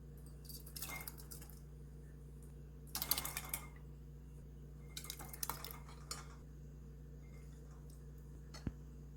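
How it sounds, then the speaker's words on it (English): Spaghetti sauce ladled into clean glass jars for water-bath canning: faint clinks and scrapes of the ladle against glass in a few short bursts over a steady low hum, with no talking. "So I'm just going to go ahead and fill these up."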